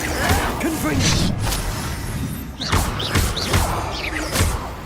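A Harry Potter video game's Confringo explosive spell goes off in several sharp thudding, crashing bursts amid dense game noise, with a voice heard throughout.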